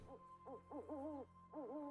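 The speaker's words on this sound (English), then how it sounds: "Oh, great owl of the woods." Owl hooting in the woods in a video game: a series of clear, tonal hoots in quick groups, steady and fairly close over a quiet background.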